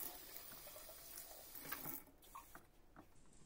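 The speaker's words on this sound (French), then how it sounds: "vous remplissez d'eau tiède jusqu'à la bulle remplie de blanc" Lukewarm tap water runs steadily into a bottle as it fills, a close, continuous splashing hiss that thins toward the end, with no talking.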